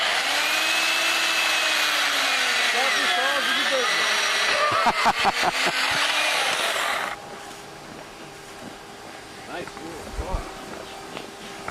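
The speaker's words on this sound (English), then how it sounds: "that's a steel chainsaw" A high, whining steel chainsaw engine runs steadily, then a series of sharp rasping cuts into a block of ice at an ice carving competition, before dropping to a lower idle with light background noise and voices.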